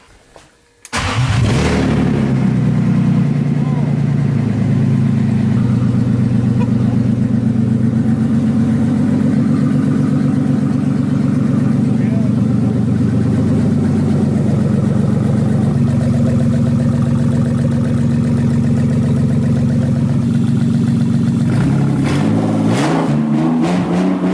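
A BMW engine-swap car with no exhaust fitted starts with a cough, then runs loud and rough at a steady idle for over twenty seconds, close and dominant, ending in a few sputters.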